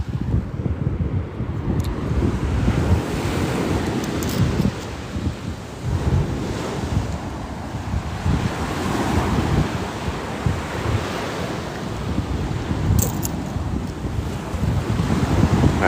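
Ocean surf rolls steadily onto Hollywood Beach at sunrise, a continuous wash of breaking waves mixed with gusty wind buffeting the microphone, loud and unbroken throughout, with no talking.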